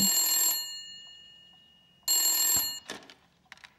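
Two bursts of an electronic telephone bell ring in a 1980 film scene, each about half a second, loud and close, followed by faint rustling and brief incidental sounds.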